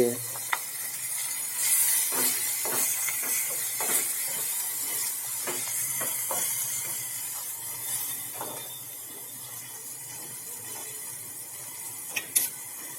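Cut red chillies sizzle steadily in hot tempering oil with coriander-cumin powder and asafoetida for a Gujarati sweet-and-sour red chilli curry, a continuous close hiss with scattered clicks of stirring throughout.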